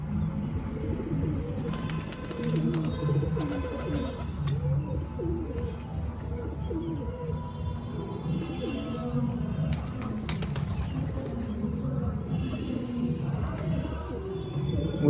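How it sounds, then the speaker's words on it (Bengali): Pigeons just released from a home loft coo steadily and close by for the whole stretch, with a few chirps and faint wingbeats mixed into the continuous outdoor bird sound. "তো পায়রা ছেড়ে দিয়েছি, দেখতে পাচ্ছ।"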